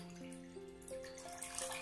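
Lukewarm water is poured into a mixture in a vessel, giving a thin, trickling pour whose pitch climbs as it fills. It is quiet and heard alone.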